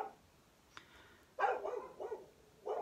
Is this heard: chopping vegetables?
no